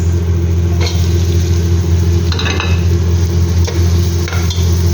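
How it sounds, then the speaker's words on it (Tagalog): Onion frying in oil after ginger has been sautéed, a loud continuous sizzle over a steady low hum, with a few brief scraping stirs breaking through. "Pagkatapos yung igisa yung luya, pwede nyo na pong ihulog yung sibuyas."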